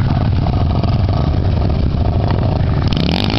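A motorcycle engine revs loudly and steadily on a dirt trail ride near Eugenópolis, close to the listener, its pitch climbing in a rising rev at the end.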